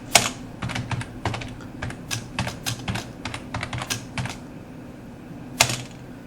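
Code being typed on a computer keyboard for an HTML5 form tutorial, a quick run of close, crisp keystrokes in uneven bursts with a short pause before a final key press, with no talk.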